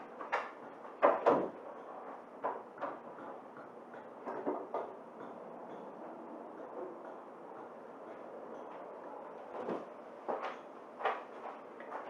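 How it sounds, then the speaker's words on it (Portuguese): In a classroom, a door is opened with a series of knocks, clunks and rattles spread over several seconds. The noises are uneven and moderately close, with quieter handling sounds between them. "a prof vai abrir uma porta para entrar um ar aqui"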